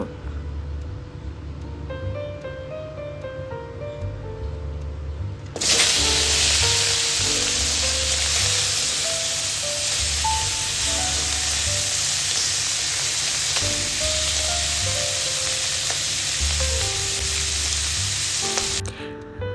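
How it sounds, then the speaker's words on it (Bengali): Fish heads rubbed with salt and turmeric hit hot oil and sizzle loudly and close. The hiss starts abruptly after a quiet stretch, holds steady for about thirteen seconds, then cuts off. "মাথাগুলোকে খুব ভালোভাবে ভেজে নিতে হবে"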